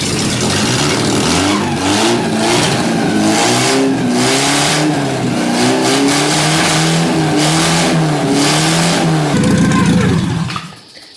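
A loud, raw vintage car engine with no exhaust revs up and down in repeated surges, harsh and unmuffled, close by, then cuts off abruptly near the end.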